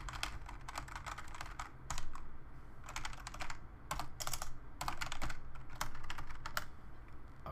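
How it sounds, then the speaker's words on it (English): Rapid typing on a small computer keyboard, bursts of clicking keystrokes close by with brief pauses between runs. "I can just type whatever."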